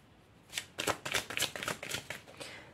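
Tarot cards are drawn and shuffled by hand, a quick run of crisp, close riffling slaps and flicks in irregular bursts, with no talk.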